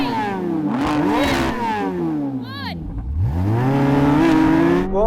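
A Chevrolet Corvette Z06 and a Ford GT drag racing, heard as loud engines revving and climbing through gears, with rising and falling pitch sweeps and a quick whooshing pass midway.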